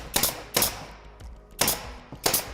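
A pneumatic nail gun fires into cabinet wood in four sharp, loud, evenly spaced bangs, each one short and close with a quick decay and quiet between shots.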